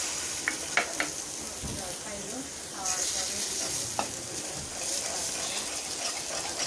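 Papaya bhaji with egg fries in a pan, a steady soft sizzle under repeated scraping and clinking stirs of a spatula, close and fairly quiet.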